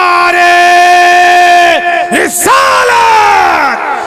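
A big crowd at a religious sermon bellows a sustained chanted reply to the Nara-e-Takbeer call, massed voices loud and drawn out, dipping briefly midway before swelling again.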